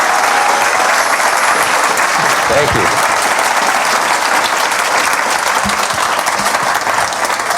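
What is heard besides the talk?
audience applause for speaker Vince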